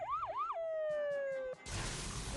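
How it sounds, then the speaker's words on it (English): Inferno's siren in the video game Transformers: Earth Wars, a loud close electronic wail that rises and falls twice, then settles into one long steady tone and is cut off by a burst of noisy game effects. "I like how Inferno did his sirens"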